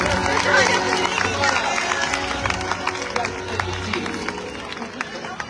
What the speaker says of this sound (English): Let's go ahead and give them a nice big round of applause.